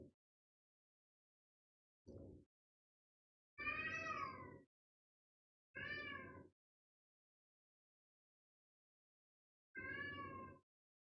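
Several cats meow indoors in four separate, fairly loud calls spaced across quiet gaps, the second and third longer and wavering, with no talking.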